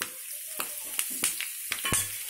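Mustard seeds, cumin, dried red chillies and curry leaves crackle and pop in hot oil for tempering, with sharp irregular snaps over a steady close sizzle and no voices.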